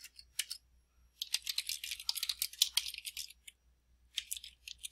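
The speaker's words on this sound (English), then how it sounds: "I'm going to type in Costenbader" Computer keyboard typing in short bursts of close, crisp key clicks, with a brief flurry, a longer steady run, then a final quick burst, no talking.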